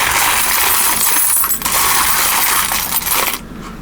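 A handful of mixed world coins is stirred around in a plastic tub, giving a dense, continuous metallic jingle and clatter close by that runs for several seconds before stopping abruptly.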